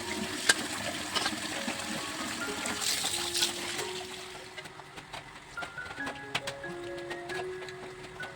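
Muddy leafy greens are washed in a bucket of water, with faint sloshing and trickling plus scattered small splashes and knocks, close by and fairly quiet.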